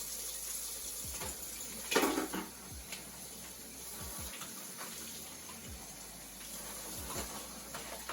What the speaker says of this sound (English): now that we rinsed our corned beef brisket, with cold water to remove that salt